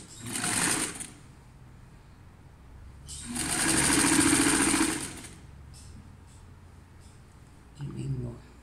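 A sewing machine stitching a 1 cm seam on a blouse, running in three bursts: a short one, a longer steady two-second run, then a brief final burst, close and clear with quiet pauses between.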